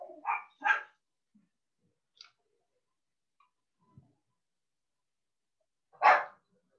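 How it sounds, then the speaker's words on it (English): Dogs bark indoors in a few separate bursts, two quick barks, then a single louder bark after a pause, fairly faint and otherwise quiet. "Sorry for my dogs."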